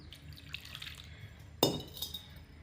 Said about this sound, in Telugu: కొంచెం వాటర్ పోసుకున్నాం